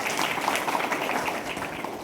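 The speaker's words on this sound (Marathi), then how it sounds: "सरांसाठी एक जोरदार टाळ्या होऊ देत" A school audience at a Chhatrapati Shivaji Maharaj Jayanti event applauds a teacher, Phatangare sir, after his talk; a steady, dense wash of clapping at moderate distance, with no voices over it.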